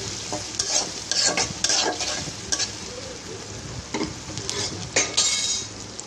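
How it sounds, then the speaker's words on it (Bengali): Onion and garlic frying in oil for a dal tempering, a close, crackling sizzle with repeated scraping and clinking of a spoon stirring against the pan, no voices. "আর এখন আমি যে ডালে বাগার দেওয়ার জন্য পেঁয়াজ রসুন এগুলো ভালো করে ভেজে নিব।"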